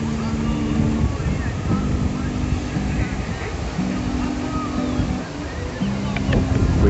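Sea surf on Kuakata beach in Bangladesh, a steady loud wash of breaking waves with wind rumble and a busy crowd of beachgoers in the background, faint voices mixed throughout.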